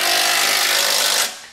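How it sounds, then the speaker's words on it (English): Trailer hitch bolts on a 2016 Subaru Outback wagon being tightened with a power tool, a single loud buzzing burst of about a second that cuts off abruptly. "We can now go back and tighten down and torque all of our hardware to the specifications found in our instructions."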